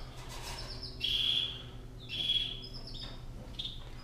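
Canaries in a sheltered breeding aviary giving a few bright, high chirps and short trilled phrases in bursts, moderately close over a quiet background.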